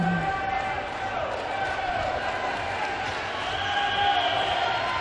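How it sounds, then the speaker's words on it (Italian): A handball arena crowd at a Serie A1 men's match between Junior Fasano and Siena makes a steady, distant roar of applause and cheering. A commentator talks over it the whole time. "Applausi scroscianti comunque dal pubblico della Zizi"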